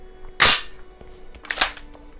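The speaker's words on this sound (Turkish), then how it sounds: "Sesi duyun. Tüfekte ses çok önemlidir." Action of a roughly fifty-year-old original Belgian Browning shotgun being worked, giving two sharp metallic clacks about a second apart, close and loud against a quiet room.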